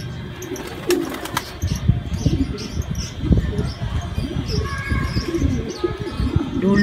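Racing pigeons coo softly during a training session at City of Muñoz, the low murmuring coos repeating amid scattered chirps and a rumbling background.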